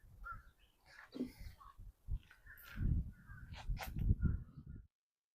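Crows cawing in the background, mixed with low rumbling and some speech-like sound, a few harsh calls standing out near the end.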